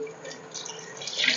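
Water is poured into a pot for mutton biryani, giving a steady close splashing, trickling flow that swells slightly near the end, with no talk over it.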